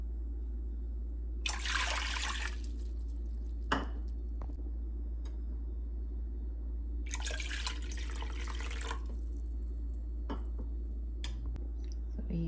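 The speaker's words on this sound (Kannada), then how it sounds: "ಈ ಕಪ್ಪಿನ ಅಳತೆಯಲ್ಲಿ 3 ಕಪ್ ನೀರು ಹಾಕ್ಕೊಳ್ತಾ ಇದ್ದೀನಿ" Cups of water are poured into a pot on the stove while making rice-flour dough for akki rotti: two short splashing pours several seconds apart, with a faint knock between and a quiet room around them.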